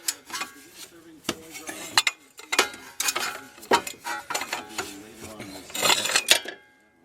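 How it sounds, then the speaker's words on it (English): A wrench with a cheater bar works on a bolt while replacing front lower control arm bushings on a 2001–2005 Honda Civic, giving close metallic clanks, ratchet clicks and scraping bursts. "You need some kind of cheater bar to break it loose so you can loosen it."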